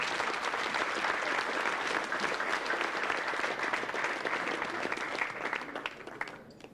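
Sustained audience applause at an exhibition opening, a dense, even clapping from a large crowd lasting throughout, tapering slightly near the end.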